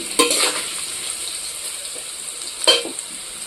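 Potatoes frying in oil in a Bengali home kitchen, a faint airy sizzle with two sharper scraping stirs of a utensil against the pan, no talk.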